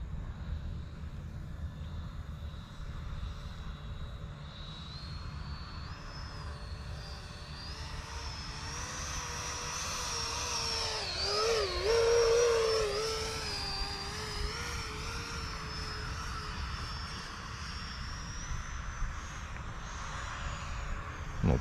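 An E-Flite F-16 Thunderbird 70mm electric ducted-fan RC jet flies at part throttle in a light crosswind, its whine swelling and shifting in pitch as it passes overhead, then easing away, with wind noise and no talk.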